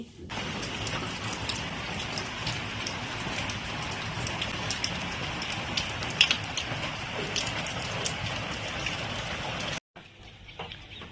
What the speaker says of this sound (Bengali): আর এখনও দেখছি বৃষ্টি পড়ছে